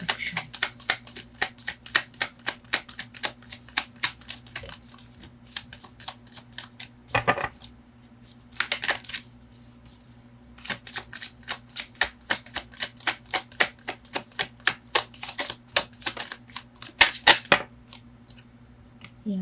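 Tarot cards are shuffled in a long run of rapid, crisp riffling flutters, close and fairly quiet, broken by a short pause midway before the riffles resume.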